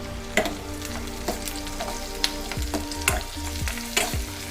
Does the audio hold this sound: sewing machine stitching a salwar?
no